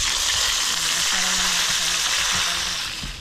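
Fish frying in a pan of hot oil, a steady broadband sizzle holding through the whole stretch with faint low murmurs and small clatters underneath, easing off slightly at the end.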